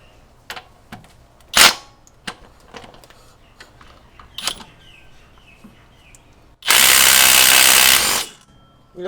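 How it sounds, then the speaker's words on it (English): An impact gun with a 19mm socket on max torque hammers at a pulley bolt in a loud, close burst of rapid rattling lasting about a second and a half, after scattered clicks and clanks of handling. "I got my impact gun, 19mm socket on max torque settings to hopefully undo this bolt"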